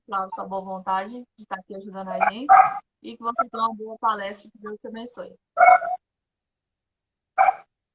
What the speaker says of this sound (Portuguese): Tem um cachorro latindo aqui também